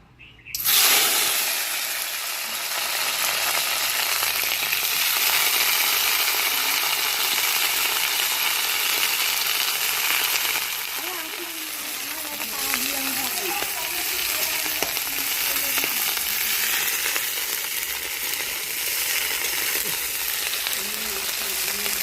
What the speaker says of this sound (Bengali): খিচুড়িতে ফুলকপি দেব, আর তার জন্য কিন্তু ফুলকপিগুলো প্রথমে একটু ভেজে নেব।